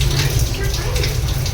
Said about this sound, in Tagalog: ang hina ng tulo